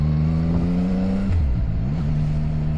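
A CFMOTO 675SR-R three-cylinder motorcycle leaned through corners, its engine droning steadily, then briefly backing off with a falling pitch before pulling back up again, loud and close with no talk.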